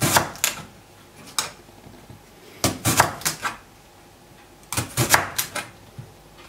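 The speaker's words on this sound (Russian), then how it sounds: "Начнем с огурчика. Нарезаем его фигурным резаком." A fresh cucumber is sliced with a decorative cutter on a board in a home kitchen. Clusters of crisp, sharp cuts and clicks arrive in bursts with short pauses between them, close up and without speech.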